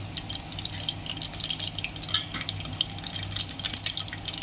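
Spoonful of mustard seeds dropped into hot oil for a toor dal tempering, giving a close, continuous sizzle with scattered pops and light stirring clinks.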